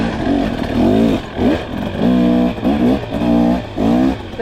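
A 2023 KTM 300XC two-stroke dirt bike on spiked tires in snow revs repeatedly, the engine rising and falling in several quick, loud, close bursts with no talking.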